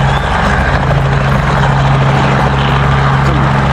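A helicopter's steady, loud rotor drone with a low throbbing hum runs continuously near Lincoln Park, close and unbroken, with no voices.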